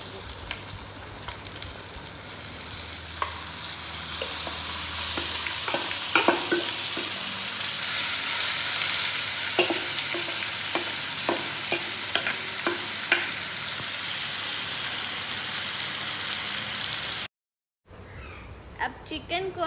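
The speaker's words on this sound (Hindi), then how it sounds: "अब चिकन को और आलू को थोड़ी देर के लिए मिक्स करेंगे।" Marinated chicken and potatoes sizzle steadily in a pan with whole spices and golden fried onions for biryani, while a spoon stirs with repeated scraping clinks. The sound cuts out briefly before a quieter sizzle resumes.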